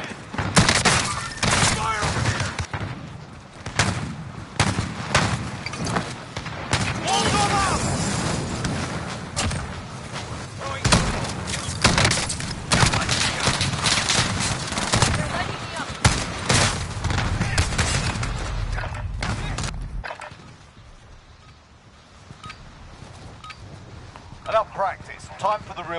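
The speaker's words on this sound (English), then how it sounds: "Shots on enemy. Shots in." Dense video game gunfire from a PS4 shooter crackles in rapid, overlapping bursts, loud and near, with thuds and shattering mixed in before easing near the end. Voices speak over the shooting.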